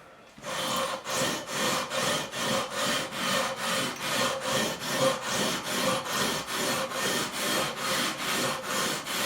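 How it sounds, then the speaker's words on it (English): Steady back-and-forth rasping of 240-grit abrasive on a perfectly flat milled block being drawn along the frets of an Ibanez Iceman guitar, about two strokes per second in an even rhythm, close and alone. "got pen over all of the frets, 240 grit on a perfectly milled flat surface"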